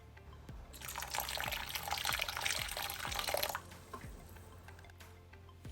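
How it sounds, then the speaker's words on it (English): Water is poured into a pot of brown stew turkey necks, a splashing, liquid pour lasting a few seconds followed by quiet drips and soft squishy clinks, with no voices. "So I added a little bit more water, just a little bit"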